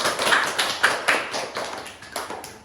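A small group in an indoor group-therapy session gives a short round of applause, a handful of sharp, irregular claps that fade out within a few seconds.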